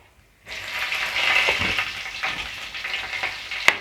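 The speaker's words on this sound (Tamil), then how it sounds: "இது கூடவே ஜீரகத்தை சேர்த்துப்போம் எடுத்து வச்ச வரமிளகா பச்சை மிளகாவை சேர்த்துப்போம்" Cumin seeds with dried red and green chilies dropped into hot oil in a pan for tomato rice, a loud close sizzle that starts abruptly and crackles steadily, with a sharp clink of a utensil near the end.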